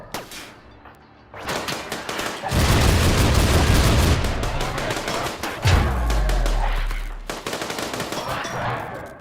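Automated turrets firing in RimWorld combat, a long loud stream of rapid shots with booming impacts, dropping away briefly and then resuming for a final short burst.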